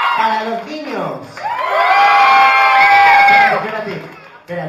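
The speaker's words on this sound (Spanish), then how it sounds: "Para los niños." Children in a group burst into loud cheering and shouting for the boys, swelling for about two seconds amid adult talk at the start and end.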